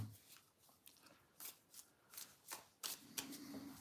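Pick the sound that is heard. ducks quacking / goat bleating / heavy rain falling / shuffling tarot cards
shuffling tarot cards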